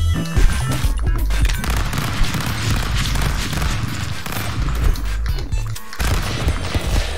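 Dense, continuous video-game gunfire from Stick Man Battles, machine gun and laser gun bursts mixed with booms and crashes, loud and busy throughout with no letup.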